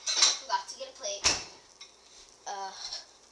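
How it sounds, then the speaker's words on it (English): Dishes and cutlery clatter in a home kitchen as a plate is fetched, a few sharp clinks and knocks with a brief murmuring voice in between. "I have to get a plate"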